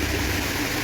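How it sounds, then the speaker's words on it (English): Steady broadband rush of water at a waterfall near Mount Abu, Rajasthan, a continuous even roar with no breaks or voices. "the sound of this water is amazing"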